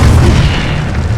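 Incendio fire spell cast in Hogwarts Legacy, a single loud, deep, rumbling burst that fills the moment, close and heavy.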